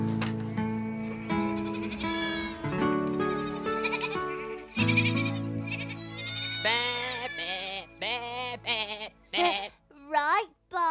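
Sheep bleating repeatedly, wavering nasal cries one after another, close and loud, with short gaps between calls.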